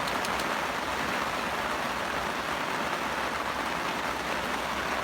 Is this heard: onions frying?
no